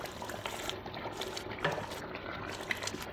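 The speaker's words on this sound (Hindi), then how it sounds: "हंडी भुन रही है और साथ साथ ऑयल आ रहा है" Beef bhuna frying in a cooking pot (handi) as its oil separates, a continuous soft sizzle and bubbling with scattered small pops, steady and close.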